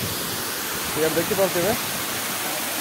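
Gumar Mundi waterfall roaring as water rushes down, a loud, steady broadband wash filling the whole span while someone speaks briefly over it.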